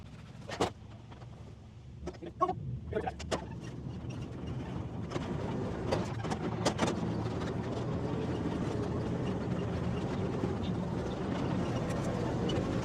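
The engine of a 1942 Dodge ambulance runs while being driven a lap, a steady low rumbling drone that builds after a few brief knocks and bumps at the start, then holds evenly at a moderate, close level.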